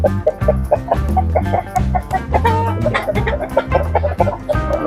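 Abrasu breed fighting roosters cluck repeatedly in short, close, fairly loud bursts that overlap into a busy, steady chatter with no speech.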